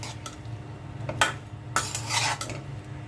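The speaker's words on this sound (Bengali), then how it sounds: "সব কিছু একসাথে মিক্সড করে নেব।" Spoon scraping and clinking in a pan while ingredients with salt are stirred and mixed together for a shrimp, eggplant and potato curry, several short metallic scrapes in uneven bursts over a low sizzle, close by.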